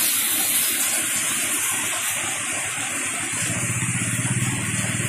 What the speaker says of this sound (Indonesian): Hujannya lebat sekali.